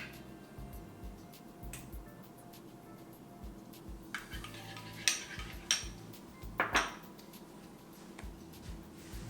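Cream is stirred into a creamy malai kofta gravy in a pot, giving quiet, scattered clinks and scrapes of a spoon against metal over a low background hush.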